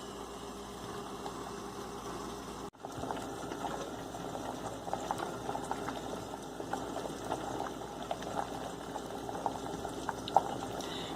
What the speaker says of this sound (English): The first step is we will boil this tomato and make a puree.